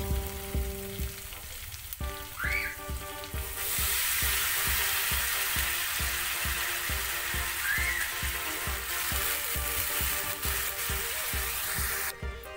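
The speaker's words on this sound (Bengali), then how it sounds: "তারপরে আমি এর মধ্যে বাঁধাকপিটা দিয়ে দেব তো মশলাটা ভাজা হয়ে গেছে" Cabbage and spices sizzling in a pan, with a steady loud frying hiss and a regular rhythmic scrape and clink of stirring throughout, close and alone without voices.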